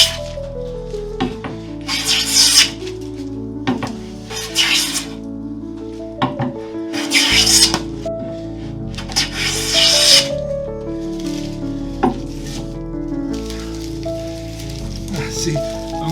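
A hand plane shaves a wooden board in long swooshing strokes, several loud passes separated by pauses, close up, with musical tones running underneath.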